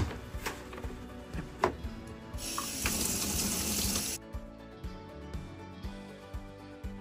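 A tap runs water over a Tiffany Studios lamp base with green patina during restoration, a steady near hiss of rinsing for about a second and a half before shutting off, surrounded by small handling knocks and clinks.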